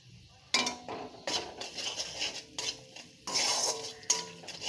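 A spoon stirring masala in a pan, a series of distinct scraping and clinking strokes against the metal in irregular bursts, close and clear, over a faint sizzle, with no talking.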